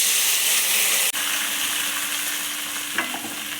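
Breadfruit pieces fry in a pan, a loud continuous sizzle close up, broken by a sudden drop as they hit the oil, then resuming with a few scraping stirs.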